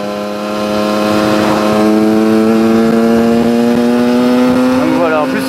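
A 125cc enduro dirt bike engine revs loudly and steadily close by, its buzzing drone rising and wavering throughout with no pause.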